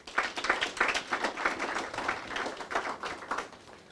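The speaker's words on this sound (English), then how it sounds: "they deserve a round of applause" An audience at a capital markets launch event claps in a round of applause, a moderate, fairly even patter of many hands with slight swells, heard from across the room.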